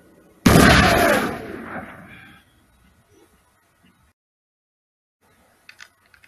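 A single loud rifle gunshot from the western movie Crossfire Trail cracks close by, then rings off in a fading echo over about two seconds, followed by quiet and a few faint clicks.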